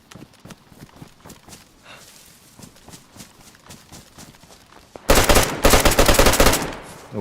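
Assault rifle gunfire in the DayZ video game: a loud, rapid automatic burst with a few stuttering shots breaks in after several seconds of soft, rhythmic footsteps.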